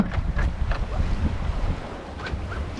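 Strong wind buffets a 28ft sailboat at sea, heavy gusty rumble pressing on the microphone in uneven surges, with water rushing against the hull underneath.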